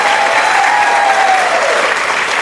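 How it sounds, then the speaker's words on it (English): A loud burst of audience applause at a real estate event, close, continuous clapping filling the short moment with a faint tonal whistle running through it. "Let's give Monica, let's give Dylan a giant round of applause"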